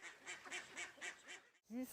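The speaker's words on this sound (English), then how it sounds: "My ducks make noise and this bothers the neighbor." Farm ducks quack in a rapid series of about six nasal calls, fairly close, followed after a brief pause by a lower, louder honk-like call.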